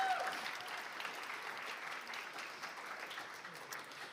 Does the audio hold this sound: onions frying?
no